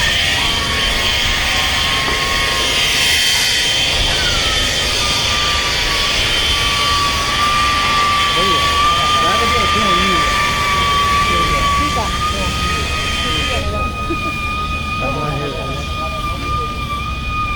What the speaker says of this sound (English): I'm just cutting that bolt down with a grinder.